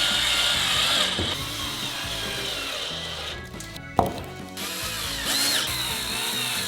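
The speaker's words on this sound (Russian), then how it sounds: "Фиксируем все шурупами." Power screwdriver driving screws into a wooden box, its whirring motor and ratcheting grind running steadily, broken by a brief pause and a sharp knock near the end.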